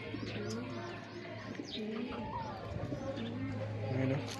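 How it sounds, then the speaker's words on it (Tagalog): A large imported pigeon coos repeatedly close by in low, throaty phrases, with a steady low hum underneath. "Laki mong kalapati pala,"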